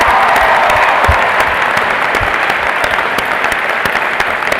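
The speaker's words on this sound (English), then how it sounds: "Major round of applause for all our Teachers of the Year." A commencement audience applauds the Teachers of the Year at a university graduation ceremony: loud, sustained clapping from a large crowd filling the whole clip, steady throughout with no voices over it.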